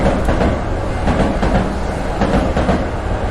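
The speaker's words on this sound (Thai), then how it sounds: "ทำไมเสียงรถไฟมันใกล้ขนาดนี้อ่ะ" Game train from Tsugunohi thundering past on the railway line: a loud, continuous close-up rumble with rhythmic clatter pulsing through it, no voices.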